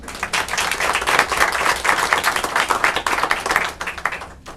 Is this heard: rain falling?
no